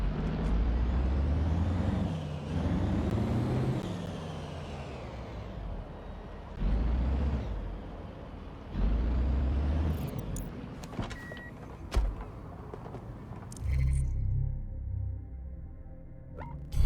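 Albion SUV in the video game Watch Dogs Legion driving, a steady engine and road drone with swelling surges and a few sharp mechanical clicks and knocks, fairly loud and alone with no talk.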